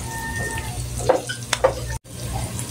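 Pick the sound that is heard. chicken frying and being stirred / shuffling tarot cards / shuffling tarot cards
chicken frying and being stirred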